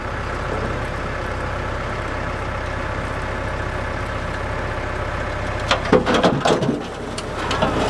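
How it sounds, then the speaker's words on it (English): A tractor engine idles steadily while the tractor backs up to drag a load by chain, a low continuous rumble with a few clanks and rattles near the end; no one speaks. "let's just back the tractor up to hook a chain to see if we can drag it"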